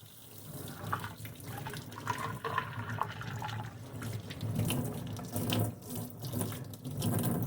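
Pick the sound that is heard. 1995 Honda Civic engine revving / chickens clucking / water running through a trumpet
water running through a trumpet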